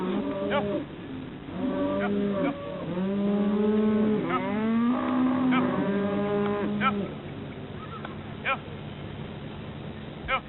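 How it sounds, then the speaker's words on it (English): Cattle at a cattle cutting in Texas low repeatedly, with long, deep moos that overlap one after another, loud and close over a steady outdoor background. "Cattle cutting in Texas, part of the great American droving tradition, which Grady Mahwiney sees as a legacy"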